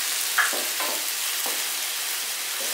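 Chopped tomatoes for egg bhurji fry in a pan under a constant hiss, while a spatula scrapes through them in several soft, regular strokes.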